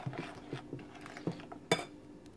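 A utensil stirs crème anglaise in a pan over low heat, giving quiet, irregular scrapes and light metallic clinks against the pan, with one sharper clink near the end.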